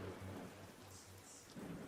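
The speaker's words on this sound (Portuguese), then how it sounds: "com raios e trovões" Thunderstorm sound effect in a spooky audio story: a low, rolling thunder rumble over steady rainfall, quiet and continuous with no voices.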